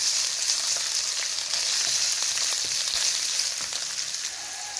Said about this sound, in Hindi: लहसुन अदरक इसमें प्याज के साथ बड़ा अच्छा फ्राई हो चुका है